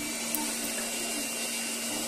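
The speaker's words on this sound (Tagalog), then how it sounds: "Huwag yung kalimutan na i-blower yung mga parts para sigurado tayo na hindi nababasa" Air blower drying freshly cleaned Whirlpool automatic washing machine parts, giving a steady, loud broadband whoosh with a constant hum that runs unbroken throughout.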